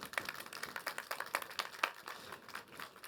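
Scattered clapping from a small audience at a festival talk, a handful of quick, faint hand claps at an uneven rhythm, heard from a distance.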